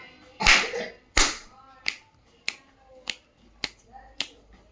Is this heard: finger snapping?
yes